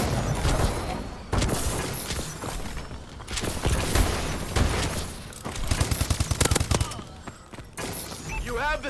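Call of Duty Advanced Warfare multiplayer gunfire on the Uplink mode at Comeback rattles in dense automatic bursts and sharp single shots. A rapid staccato volley comes near the end, loud and close, with voices calling out amid the shooting.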